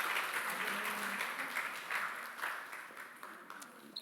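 A church congregation at an Easter Sunday service claps in congratulation, a fairly steady round of applause that gradually thins and fades over a few seconds.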